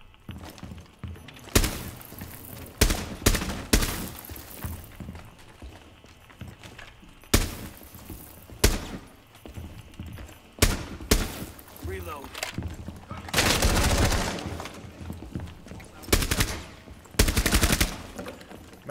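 Rainbow Six Siege gunfire in a terrorist hunt: sharp, loud shots crack in scattered bursts and single reports across the clip, with thuds and rumbling explosive noise between, a voice occasionally audible beneath.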